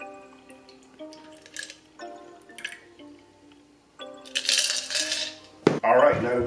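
A Negroni cocktail strained and poured into a glass, heard as a short bright splash of liquid with a clink, set against a soft tonal background.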